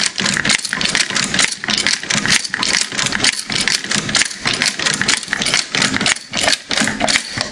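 An M1919 belt loader tool being cranked by hand to load .30-06 rounds into a worn belt, giving a loud, steady mechanical clatter of rapid rhythmic clicks and rattles that continues without pause.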